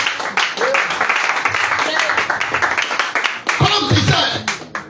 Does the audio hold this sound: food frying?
no